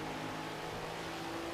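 A car engine in Forza Horizon 3 holds a high, steady buzzing drone near the rev limiter, loud and continuous with no talking.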